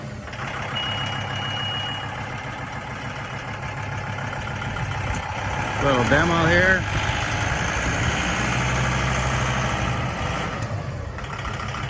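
A 2008 John Deere 5325 4x4 diesel tractor idles with a steady low rumble throughout, while someone speaks briefly partway through.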